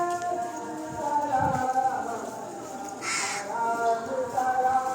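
Crows cawing beside a temple and farm shed in Nepal, with goats and chickens nearby; a few calls rise over a steady hum of background noise, one louder burst in the middle, fairly near.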